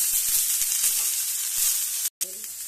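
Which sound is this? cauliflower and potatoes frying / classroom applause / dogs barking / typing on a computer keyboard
cauliflower and potatoes frying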